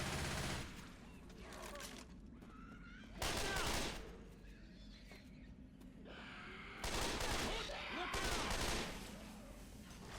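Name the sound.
assault rifle gunfire in Left 4 Dead 2 video game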